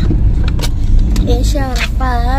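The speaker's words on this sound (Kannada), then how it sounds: "ಗಾಡಿ ಓಡಿಸ್ತಾ ಇದ್ದಾರೆ" A car is driven along with a steady low road and engine rumble, while people talk loudly over it close by and a voice rises near the end.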